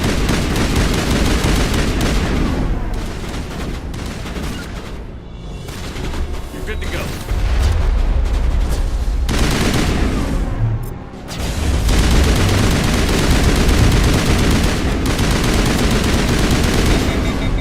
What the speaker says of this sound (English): Got an enemy badly because we're using the assault rifle